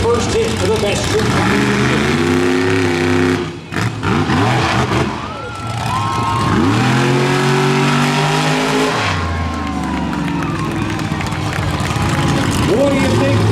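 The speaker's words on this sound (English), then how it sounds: "Dalton Widner, Shell Shock, lining up for the first hit for the best trick." The Shell Shock monster truck's engine revs hard at a monster truck show, roaring loud and close in rising and falling surges with a brief dip midway, while an announcer talks over the noise.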